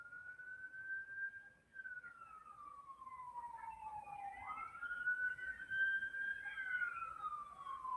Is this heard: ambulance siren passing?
yes